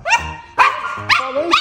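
Three puppies bark close by before a first outing to a shopping mall, giving four short, sharp, high yips spaced about half a second apart, loud and near.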